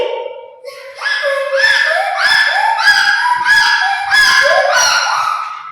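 A voice imitates a donkey braying, a series of about six loud, rhythmic honking hee-haw cries in quick succession, close up.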